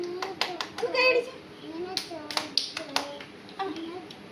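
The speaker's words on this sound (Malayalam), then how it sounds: "ഒന്ന് കൈയടിച്ചു" Children in a classroom clap their hands in a quick burst of sharp, uneven claps, mixed with young voices chattering and a teacher speaking nearby.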